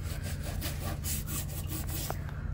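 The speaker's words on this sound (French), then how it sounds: "là le vernis qui part avec la brosse et l'éponge" Brush and sponge scrubbing old varnish off a wooden boat floor, a steady close back-and-forth rasping in rhythmic strokes over a low hum.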